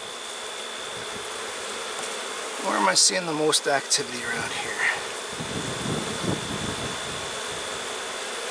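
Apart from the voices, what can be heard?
honey bees flying around a hive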